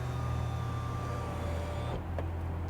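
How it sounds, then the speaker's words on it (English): A steady low hum plays continuously from a 2022 Honda Accord Hybrid in reverse, its pedestrian warning tone droning at even volume before cutting off near the end with a brief click. "it does make this roaring sound to let pedestrians know that the vehicle is in reverse"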